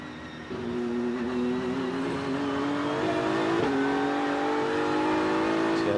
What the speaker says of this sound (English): Let's jump on board with the Connecticut native, Neil Verhagen, on board for ST Racing.